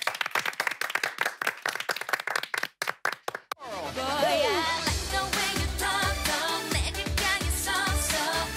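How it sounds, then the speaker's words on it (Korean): A crowd claps for soldiers of the South Korean Army 3rd Division Baekgol unit: about three and a half seconds of dense, close clapping, which then gives way to loud music filling the rest of the clip. "지금 이 순간에도 고생하고 있을 백골부대 여러분께 박수 한번 주세요."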